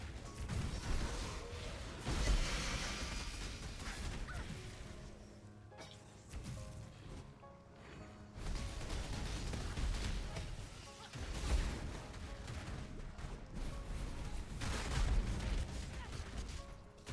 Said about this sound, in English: look at those freaking explosions